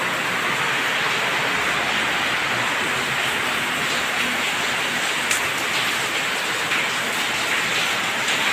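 Steady rain pours down outside a brick house, a dense, even hiss of drops on surfaces that holds at one level throughout with no voices.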